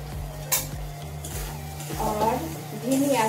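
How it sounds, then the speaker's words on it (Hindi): Tomato, ginger and garlic paste frying in a pan over low heat, with steady sizzling, several sharp spoon clinks and scrapes against the pan while someone talks over it. "और धीमी आंच पे से भूनना अच्छी तरह"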